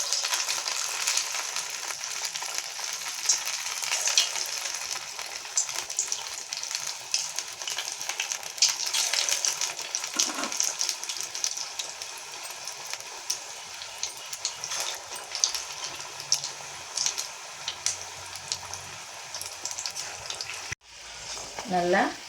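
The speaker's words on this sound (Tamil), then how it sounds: "இப்போ போண்டா போட்டு எடுத்துக்கலாம்." Tea-shop bonda fritters frying in hot oil, a continuous bright crackling sizzle with occasional bubbling bursts and stirring, close and steady throughout, ending with a short clatter.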